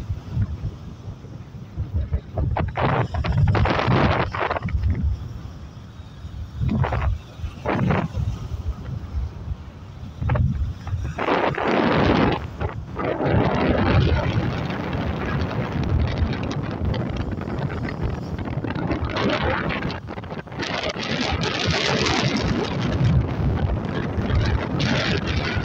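Heavy wind buffets the microphone aboard a fishing boat rocking in bad weather at sea off Sesimbra, Portugal: a loud, continuous roar with gusting surges, rumbling and splashing, and occasional faint voices.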